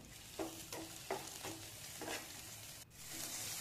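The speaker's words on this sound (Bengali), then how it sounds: "এরপর কড়াইতে তেল দিয়ে টমেটোগুলো আমরা ভেজে নেব" Tomatoes fry in oil in a wok with a soft, quiet sizzle, punctuated by several rhythmic scrapes and taps of a spatula stirring them, no voices present.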